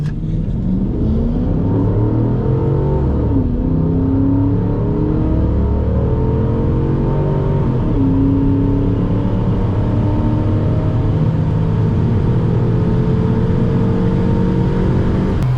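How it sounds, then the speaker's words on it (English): A Ford V8 car accelerates hard on a drag strip at Willowbank, its loud engine note sweeping up through the revs and dropping at gear changes, with a steady deep rumble throughout. "give her a run on the drag strip"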